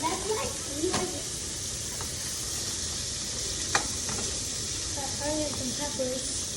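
Onions and peppers for Philly cheese steaks frying on a stove, a steady close sizzle and hiss with a few utensil clicks, under a woman's speech.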